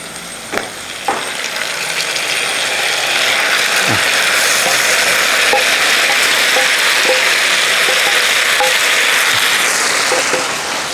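Curry lemon pieces for pickle sizzle steadily in hot oil, a loud continuous frying hiss with a few sharp pops and spoon clicks near the start, close up and without speech.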